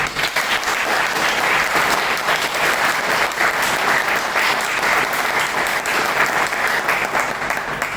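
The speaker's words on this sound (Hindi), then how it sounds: "एक बार ट्रू नेक्टर के लिए, ये 6 मशरूम्स के लिए प्लीज तालियां बजाएं" Audience applause at a talk for True Nectar mushrooms, a dense, continuous clapping from a large crowd indoors, loud and sustained for several seconds.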